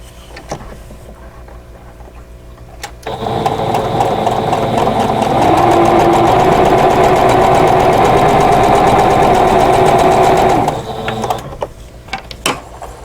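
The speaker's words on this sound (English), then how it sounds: "And then for this piece I'll sew the red to the other side." A sewing machine runs to stitch red quilt block pieces together for a flower basket block. Its loud, steady motor whir holds for about seven seconds, preceded and followed by quieter handling clicks.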